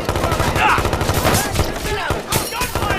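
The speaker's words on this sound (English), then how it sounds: "Gunfire on location." Gunfire in the video game Watch Dogs 2: dense, loud bursts of shots crackle continuously through a chaotic firefight, with shouting voices mixed in.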